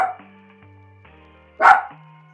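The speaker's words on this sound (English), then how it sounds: "Sorry, my dog's barking." A single dog barks once, sharp and fairly close, over a quiet background of soft lofi music tones.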